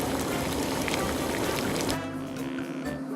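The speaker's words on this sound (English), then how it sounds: "now I'm going to go ahead and strain it off and rinse it" Boiled tripe for menudo is poured off into a strainer and rinsed, a steady loud rush of pouring water and splashing for about two seconds that then tapers into quieter trickling and clatter.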